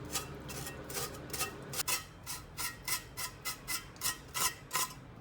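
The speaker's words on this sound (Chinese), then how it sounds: "我们必须要用刀把表皮给它刮一下哈" A knife scrapes the skin of a pig's head being cleaned in hot water, a rapid series of about fifteen short rasping strokes in a steady rhythm, close and clear with no talk.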